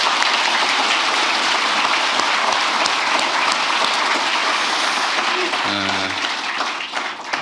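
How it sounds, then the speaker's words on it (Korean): Sustained applause from a workshop audience of senior public officials, a dense steady roar of clapping that carries on without a break and thins slightly near the end, with a brief tonal sound partway through. "우리 동료들을 위해서 박수 한번 부탁드립니다."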